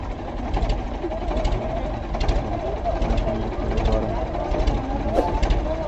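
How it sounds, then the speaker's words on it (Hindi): Ford 3600, Massey Ferguson 1035 DI 35 HP and Mahindra 575 45 HP tractors pull a trolley of bricks that is stuck, their diesel engines giving a steady, loud, close rumble with rhythmic knocking, with voices mixed in. "जो ईंटों की फंसी हुई है ट्रॉली है उसको टोटल 130 HP ट्रैक्टर निकाल रहे हैं"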